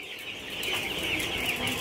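Young broiler chicks in a multi-tier cage farm chirp and peep in a continuous overlapping chorus, close and fairly loud, with no voices.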